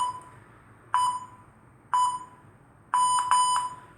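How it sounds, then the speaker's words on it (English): Workout timer app sounding clear electronic beeps: single tones about a second apart, then a quick cluster of several beeps near the end, loud and close over a quiet background. "it just goes beep, beep, beep, beep, beep"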